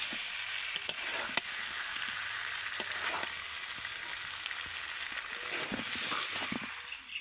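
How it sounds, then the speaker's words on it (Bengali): Green jackfruit and potato sautéing with spices in a pan give a steady, soft sizzle, broken by occasional sharp clicks and scrapes of stirring, close by and with no voices. "যত ভালো করে এঁচোড় আর আলুটাকে মশলার সাথে কষানো হবে, তত কিন্তু খেতে ভালো লাগবে।"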